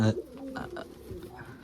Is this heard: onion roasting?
no